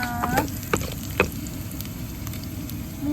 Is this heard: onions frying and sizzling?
yes